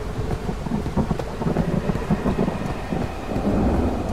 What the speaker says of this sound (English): And of course, rain.